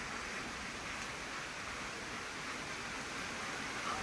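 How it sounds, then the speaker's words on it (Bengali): Heavy rain pours down outside in a steady, loud, unbroken hiss that fills the whole stretch with no voices over it. "বৃষ্টি এসছে বাইরে, ঝুমঝুম করে মুষলধারে বৃষ্টি হচ্ছে।"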